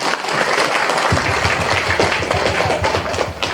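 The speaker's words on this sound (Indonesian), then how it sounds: "Tepuk tangan dulu untuk kita semua." Loud audience applause fills a hall at a humorous Sundanese-language religious lecture. The clapping is dense and continuous throughout, with rhythmic group claps growing more distinct partway through.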